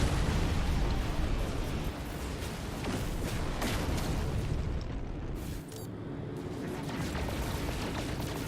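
Spaceship weapons firing in a No Man's Sky space battle near frigates: a dense, continuous barrage of booming, bursting shots, close and loud throughout, with no clear gaps between blasts.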